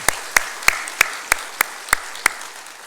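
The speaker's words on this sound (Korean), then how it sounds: "박수 한번 치야 되나요?" A church congregation claps in Korea, about eight sharp claps in a steady, evenly spaced rhythm, fairly close with no voices over them.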